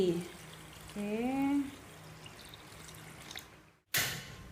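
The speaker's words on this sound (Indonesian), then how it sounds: "Selanjutnya kita masukkan air 500 ml." Water, 500 ml, poured into an ice cream mixture while cooking, a faint steady wash of liquid running on at low level with a short louder burst near the end.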